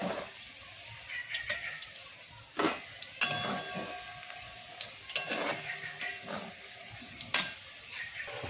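Soybean chunks frying in oil give a soft sizzle, broken by sharp clinks and scrapes of a utensil against the pan at irregular intervals.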